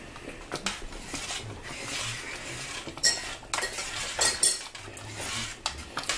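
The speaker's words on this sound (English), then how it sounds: "When you want to try to taste this, get a spoon." A metal spoon clinks and scrapes inside a pot of sloppy joe filling, with irregular close taps and stirring scrapes over a light background hiss.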